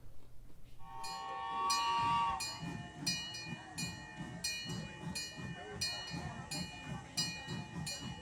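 Irvine Park Railroad train running at an autumn pumpkin patch, a nearby horn blast followed by steady rhythmic clacking of wheels over rail joints with bright squeal-like tones.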